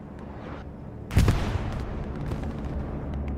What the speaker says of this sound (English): Bombing run coming on in here.